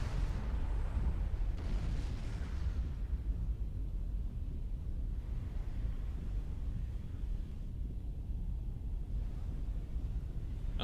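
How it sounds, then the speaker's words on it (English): A nuke detonation in the real-time strategy video game Supreme Commander 2 sounds as a deep, rumbling blast that swells and rolls on for several seconds, with low booming weight and a hissing upper wash fading off. "I've launched a second nuke, which is about to hit now."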